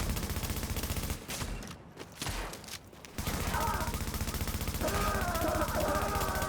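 Rapid bursts of gunfire from a shooting session, sounding as dense repeated shots that pause briefly near the middle and then resume strongly, loud and fairly close.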